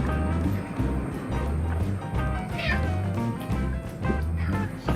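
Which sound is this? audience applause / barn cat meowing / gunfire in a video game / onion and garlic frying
barn cat meowing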